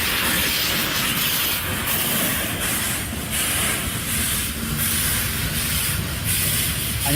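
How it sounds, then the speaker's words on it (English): The Flying Scotsman steam locomotive and its carriages roll past close by, a loud continuous rushing roar with hissing and rhythmic wheel beats, no voices. "It was so loud. That's the world's most famous train."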